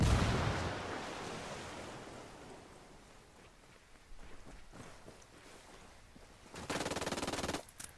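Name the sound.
gunfire in the video game Ghost Recon Wildlands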